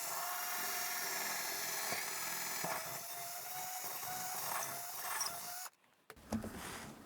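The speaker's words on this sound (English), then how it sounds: "now we can go ahead and drill right on through with our 1/4 inch bit" A power drill with a 1/4 inch bit whines steadily as it bores through material for several seconds, then stops abruptly, followed by brief clunks and handling noise.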